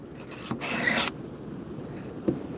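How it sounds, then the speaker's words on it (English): A Cast King fillet knife is drawn across a sharpener, giving a few close, dry rasping strokes: one long scrape, then shorter quick ones, with quiet gaps between them. "risk stabbing myself every single time I sharpen it"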